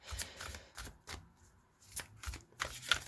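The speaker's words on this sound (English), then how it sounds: "shuffle 3 times before we go." Several quick riffle-shuffles of a deck of cards, crisp papery bursts repeating in a loose rhythm, close by with no talking.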